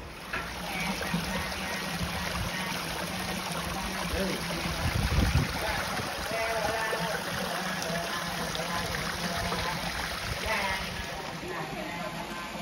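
Steady running water from a waterfall-fed stream at Bhairava Kona temple in the Nallamala Forest, a continuous close rushing and trickling wash that stays even throughout, with no voices.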